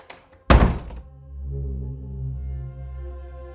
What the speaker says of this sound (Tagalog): may narinig akong kakaibang tunog at kalabog sa pinto ko